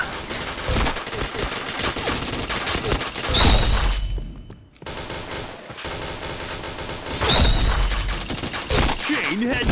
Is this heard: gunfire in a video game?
yes